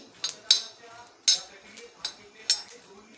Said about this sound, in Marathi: हे शेंगदाणे घेतलेत मी एवढे ते आता व्यवस्थित भाजून घेते